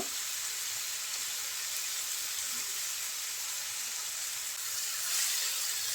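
Bitter gourd and tomato fry over medium heat in a pan, making a soft, even sizzle that holds steady, with no speech.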